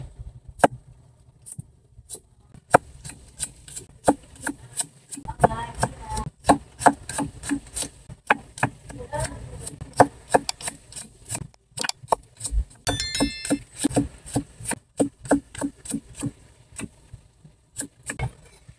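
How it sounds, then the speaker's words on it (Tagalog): Knife slicing garlic cloves on a cutting board in a home kitchen, a long run of crisp, rapid cuts and taps repeating close up with short pauses between bursts. "Tapos yung ating bawang, slice na lang natin."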